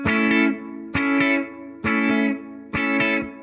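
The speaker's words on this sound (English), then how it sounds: "you would just maybe relax your fingers after the second strum, it sounds like this" Four acoustic guitar chords from a reggae song strummed in a slow steady rhythm, each ringing for about half a second before being cut and muted by relaxed fretting fingers.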